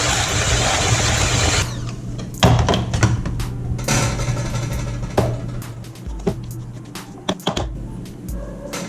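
A large bowl of peanut butter, egg and other dog-treat ingredients is mixed with a loud electric mixer, a steady buzzing drone broken by clunks and knocks against the bowl, with no talking.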